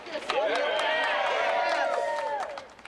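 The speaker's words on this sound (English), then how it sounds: "Chanting and cheering ring along Congress Street as a small group against electing a mayor gathers in front of City Hall" A small crowd chanting and cheering outside City Hall on Congress Street at a political rally, steady rhythmic voices and claps filling three seconds, heard from a short distance in the open air.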